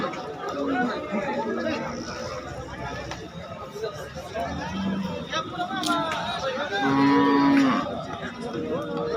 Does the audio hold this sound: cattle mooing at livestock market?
yes